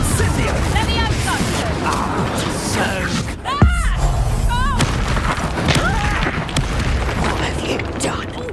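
Blasting spell explosions and combat in Hogwarts Legacy, a busy fight with several booms and one loud impact midway, under frequent shouted voices and whooshing magic effects.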